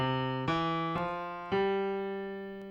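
Piano notes from the left hand stepping down with fingers 5, 3, 2 and 1, each sustained tone ringing into the next, clear and close with no talking.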